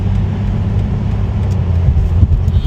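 A BMW Z4 M40i roadster's engine rumbles deep and loud from close range, a steady low growl that builds slightly toward the end with no talking over it.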